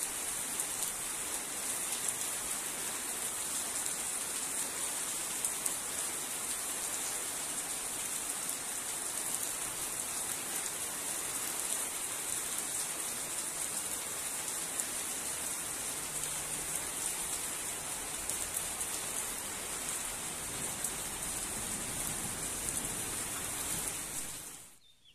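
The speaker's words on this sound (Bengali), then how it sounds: "প্রচণ্ড বৃষ্টি হচ্ছে, 7-8 দিন যাবৎ এরকম একই রকম ওয়েদার।" Heavy rain pours down steadily around a house ringed by areca palm trees. The hiss is loud and unbroken and lasts about twenty-five seconds before it cuts off.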